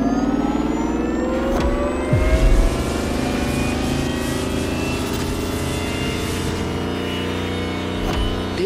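A Lamborghini Terzo Millennio electric hypercar in The Crew Motorfest gives off a smooth, rising electric whine as it accelerates, with a brief louder burst partway through, sounding close and continuous.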